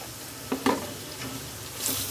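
Chicken mince tossed into a pan with salt, chili, turmeric and coriander powder for chicken patties, frying with a steady low sizzle and a few sharp stirring scrapes near the start.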